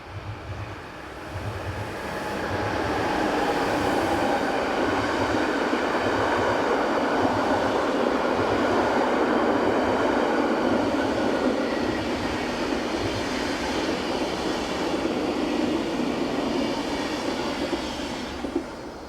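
Swiss Re 460 locomotive 460-028 hauls a southbound Basel to Locarno passenger train on the Gotthard north ramp, a steady loud roar of wheels and motors building quickly and holding, with a pulsing low rumble of passing carriages.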